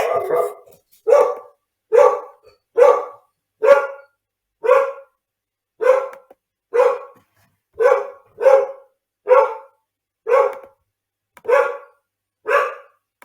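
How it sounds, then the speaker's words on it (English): A dog barks in a steady series of about fifteen sharp, whiny barks spaced roughly a second apart, each with a crying, yelping edge, fairly close and loud with quiet gaps between. "that's the dog crying"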